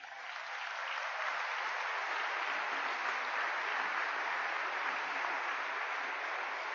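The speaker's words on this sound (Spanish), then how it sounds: "¿Cuánto le dan un aplauso al Señor?" A church congregation bursts into sustained applause, a dense, even wash of clapping from many hands that holds steady at full volume for several seconds.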